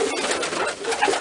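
A young racing pigeon coos while held in the hand, a short soft throaty coo rising and falling close by, with no voices over it.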